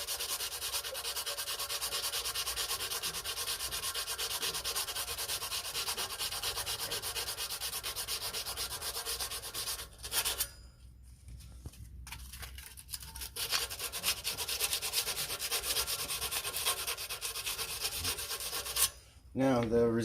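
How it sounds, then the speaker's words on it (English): Sandpaper is rubbed by hand around an e-bike brake rotor, giving a steady close scratchy hiss that stops briefly twice before resuming. "Grab both sides of the rotor and just sand all the way around."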